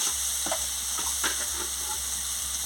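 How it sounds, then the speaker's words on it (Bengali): Turmeric and salt being stirred through hot oil in a frying pan, a steady soft sizzle with a few light scrapes of the spoon against the pan and a low hum underneath. "পরিমাণ মতন হলুদ গুঁড়ো দিয়ে দিচ্ছি, পরিমাণ মতন নুন দিয়ে দিচ্ছি, দিয়ে ভালো করে নাড়িয়ে নিচ্ছি"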